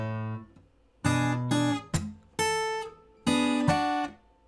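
Acoustic guitar playing measure 36 of a fingerstyle piece, a few bright plucked notes and chords ringing in a stepwise staircase pattern, close and solo with no talk.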